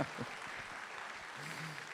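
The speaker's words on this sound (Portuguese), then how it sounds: "salva de palmas para a panela" A church congregation claps together in steady applause during a sermon, the broadband patter holding through the short stretch with faint voices mixed underneath.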